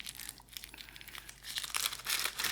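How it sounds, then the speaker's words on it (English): Parchment paper is crumpled by hand in a kitchen before cooking vegan S.O.S., a continuous close crackling and crinkling that swells louder toward the end, with no voices. "I'm going to do the crumple method because I like to do it."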